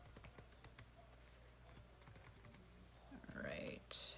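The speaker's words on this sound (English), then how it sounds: "I'm just typing right now." Quiet keyboard typing, a scattering of soft key taps under low background noise, with some louder shuffling and handling near the end.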